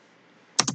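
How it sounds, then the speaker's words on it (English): Two quick keystrokes on a computer keyboard entering a command while installing Windows 1.0 in VMware, crisp and close in a quiet room. "Now we just gotta type in"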